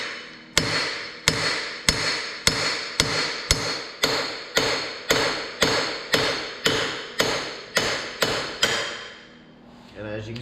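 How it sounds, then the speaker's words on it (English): A hammer repeatedly strikes the face of a wheel stud to drive it out of the hub on a 2006 Yamaha Raptor 700 ATV, about fifteen sharp metallic bangs in a steady rhythm, loud and close. "All you gotta do is take your hammer, hit it on the face right there."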